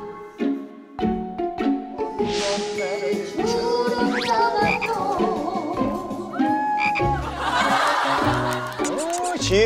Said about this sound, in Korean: 자, 이제 개구리 풀어보겠습니다.